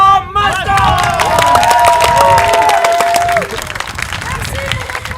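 An indoor audience applauding the presentation of a mace, steady clapping and cheering mixed with crowd chatter and loud voices over it, fading near the end.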